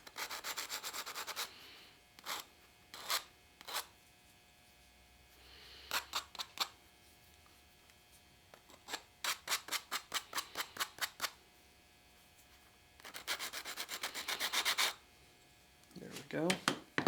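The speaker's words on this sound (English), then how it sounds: "I'm just going to use old sanding block, nothing special." Quick back-and-forth scraping of an old sanding block on wood, removing burrs while mounting a scope on a 96 Mauser small-ring rifle, in short rhythmic bursts separated by pauses, close up.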